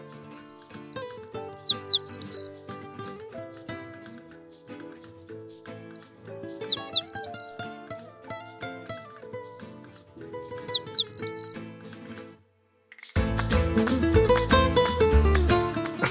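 Small birds chirp and squawk in three bursts around a bar in Bilbao, Spain, each burst followed by a quieter pause, before louder, busy bar noise takes over.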